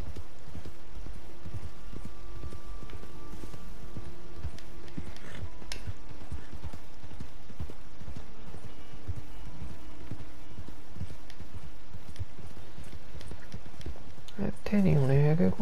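A horse gallops in Red Dead Redemption 2, its hooves making a rapid, steady clip-clop that carries through the whole stretch while someone talks over it, with a brief louder burst near the end.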